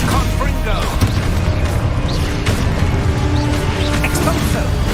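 Confringo spell explosions in Hogwarts Legacy on PS5, dense booming blasts and crashes layered over continuous game music and combat noise at high loudness, with a shouted voice calling spells.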